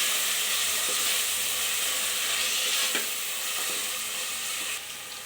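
Tomatoes fry in hot oil for a pudina chicken fry, a dense continuous sizzle with faint stirring scrapes, close and steady, easing slightly near the end.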